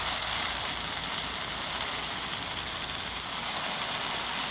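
Pancake batter, GAPS intro style with crispy nuts, sizzling and frying steadily in a hot pan, a continuous close, even hiss that holds at the same level throughout.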